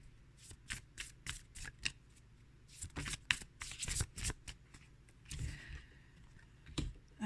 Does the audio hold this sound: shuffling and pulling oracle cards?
yes